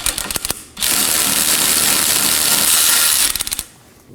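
A ratchet spins a suspension bolt loose on a 2018-2024 Chevrolet Equinox rear axle. A few sharp clicks come first, then a long, loud, continuous buzzing rattle, then more clicks that trail off into quiet.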